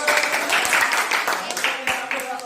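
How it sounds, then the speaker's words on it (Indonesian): Audience clapping, a dense crackle of many hands, fills a fisheries extension presentation on vannamei shrimp farming in Bratasena, with a brief wash of applause rather than talk. "Oke, tepuk tangan."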